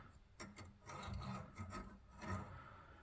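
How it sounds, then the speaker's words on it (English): Hacksaw blade scraped by hand through rusty bolt threads on a Jaguar XK X150 rear wheel bearing job, a few quiet close rasping strokes in short bursts. "I'm just running around with this hacksaw blade just to get the rust out of the threads."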